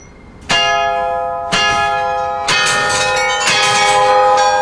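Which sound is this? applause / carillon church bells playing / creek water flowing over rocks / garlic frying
carillon church bells playing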